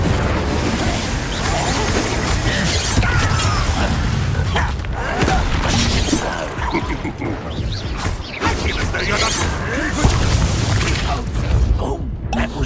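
A Confringo fire spell blasts in Hogwarts Legacy amid a chaotic combat mix of dense booming explosions and crashing impacts, loud and sustained throughout, with game music and effects layered together.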